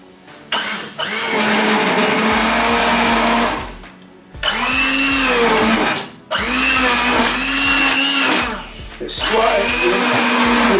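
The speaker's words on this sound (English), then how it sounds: "I'm actually going to use a stick blender to squish it up a little bit more" Stick blender purees hot homemade carrot and potato soup in loud, close, whirring bursts, stopping briefly twice before starting up again, with a voice talking in between.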